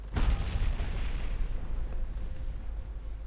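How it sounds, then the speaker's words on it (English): Heavy naval gunfire pounds the cruiser Atlanta in the Ultimate Admiral Dreadnoughts warship game, with a burst of close booming impacts at the start, then a continuous low rumble of shelling that fades slightly. "Sadly, the Atlanta is taking a lot of heavy fire."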